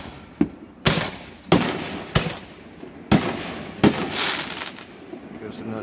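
Distant fireworks, big aerial shells, booming outdoors in a series of sharp bursts with crackling tails, about seven reports spaced irregularly, with a faint voice murmuring between them.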